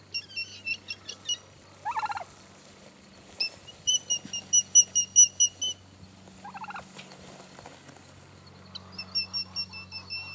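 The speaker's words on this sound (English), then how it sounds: "And she tries to gobble." A turkey hen behaving like a tom lets out several loud, close gobbling bursts between bouts of high chirping and some wing flapping, over a low steady hum.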